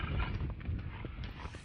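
Hooves of a mare clip-clop in a quick, uneven series of faint, close knocks, heard alone without talking.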